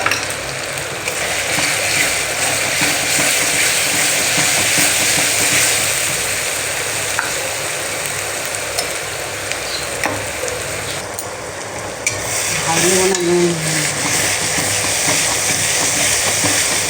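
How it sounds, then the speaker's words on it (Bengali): Meat curry with potatoes and spice paste sizzles in a pan, a steady frying hiss with occasional stirring scrapes, continuing without speech. "ভালো করে কষিয়ে নেব"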